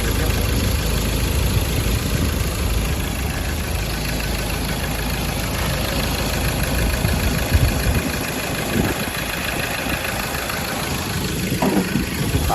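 Steady idle of a Mazda BT-50 2.2 Pro pickup with roughly 304,000 km, the engine ticking over smoothly at a constant level, with faint handling noise near the end.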